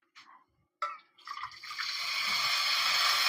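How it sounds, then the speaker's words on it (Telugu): Water is poured from a cup into a pan for egg semiya, with a couple of short splashes and then a steady, close pouring stream that builds in volume. "ఇప్పుడు మనం ఏ కప్పుతోనే అయితే షేమియా తీసుకున్నామో అదే కప్పుతోని నీళ్ళు పోసుకుందాం"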